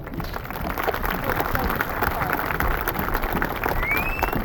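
Graduation ceremony audience applauding, a steady wash of many hands clapping from a large crowd, filling the room evenly with crowd murmur mixed in.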